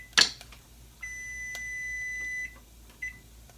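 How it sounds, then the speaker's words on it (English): A kitchen timer sounds while a meal kit dinner is cooked, giving a few thin electronic beeps, including one sustained tone lasting over a second, after a sharp click. "So the timer's off."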